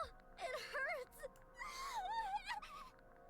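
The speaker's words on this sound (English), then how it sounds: "I heard a scream." A wavering cry of pain from a character in the video game Goddess of Victory: Nikke, two drawn-out moaning wails with gasps, faint and close.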